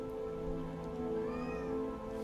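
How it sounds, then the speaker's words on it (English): A house cat meows at a closed door and pushes on it. Its drawn-out, wavering cries sound slightly muffled over a constant droning background. "one of our cats is at my door meowing and pushing on it"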